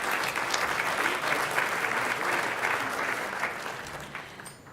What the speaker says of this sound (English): A round of applause for the foresight of Dr.